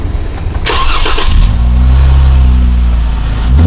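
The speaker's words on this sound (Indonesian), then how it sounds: "kalau ini mesti coba nyalain motor kali ya" A modified Jeep with a performance exhaust cranks with a brief starter whir, then catches into a loud, deep, steady idle rumble that swells slightly at the end, close to the listener.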